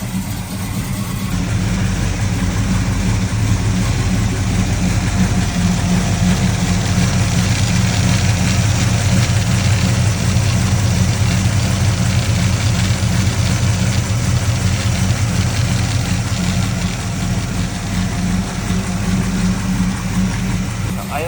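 A Chevrolet Camaro V8 freshly upgraded and newly fitted with valve covers, idling steadily with a loud, close, even rumble that holds level throughout, while people talk over it.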